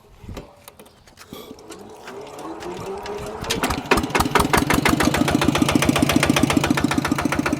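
A secondhand RT100 walking tractor engine at a farm-machinery shop starts up and settles into a loud, close, rapid steady chugging idle that builds over the first few seconds.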